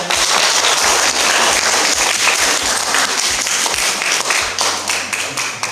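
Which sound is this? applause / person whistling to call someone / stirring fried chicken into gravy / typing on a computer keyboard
applause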